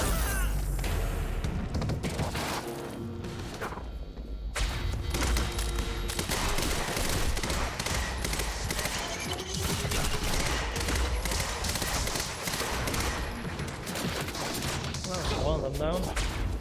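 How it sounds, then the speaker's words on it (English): Dense, continuous gunfire in the Quantum Break video game, with rapid automatic bursts and booming impacts almost unbroken across the stretch, under intermittent talking. "Who's shooting?"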